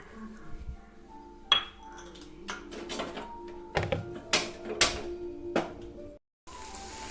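Wheat roti ingredients are mixed together in a bowl, producing irregular close clinks, taps and scrapes of a utensil against the bowl with brief pauses.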